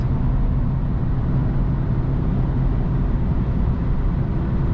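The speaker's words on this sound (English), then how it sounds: "Of course it's a small petrol, so it feels a little bit nervous and in too high RPM with that speed." A Peugeot 308 GTi with a 1.6 turbo petrol engine cruises at high revs on the autobahn, a steady loud engine drone mixed with road and wind noise, unbroken throughout.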